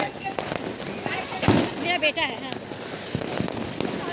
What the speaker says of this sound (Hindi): और ऊपर सभी लोग पटाखे छोड़ रहे हैं,